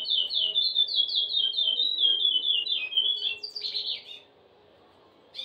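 A male songbird calls vigorously toward a female held in view for mating, a rapid run of high, bright chirps and trills for about four seconds before falling quiet, loud and close.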